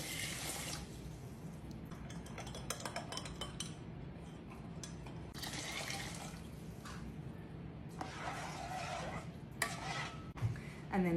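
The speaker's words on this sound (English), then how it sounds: "Pour it into your rice cooker." Stock being poured into a rice cooker pot while making rice for bolognese and cheese arancini, a steady liquid splashing and trickling close by, with light clinks of the pot and utensils.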